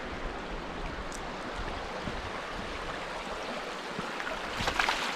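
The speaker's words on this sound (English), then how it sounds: "this little creek that comes off of Elk Mountain, and then Headquarters Creek here" Headquarters Creek in the Wichita Mountains flows steadily below Elk Mountain, a soft, even rush of running water with no voices.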